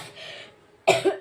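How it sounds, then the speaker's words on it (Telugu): In a home kitchen filled with fumes from spice tempering, a single sharp cough breaks out near the end of a brief, otherwise quiet moment, close and clear. "తాలింపు పెట్టడం వల్ల దగ్గు వచ్చేస్తుంది విపరీతంగా."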